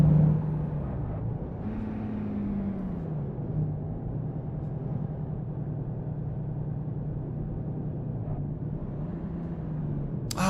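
Truck engine in a trucking video game, a steady low diesel rumble with a rising and falling engine tone and a brief air-brake hiss near the end, continuous and fairly loud with no voices.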